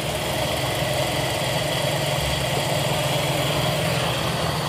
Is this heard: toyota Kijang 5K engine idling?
yes